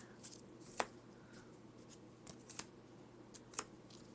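A deck of Pokemon TCG cards is cut and shuffled by hand, giving soft, sparse snaps and riffles at close range in a quiet room, with no talk.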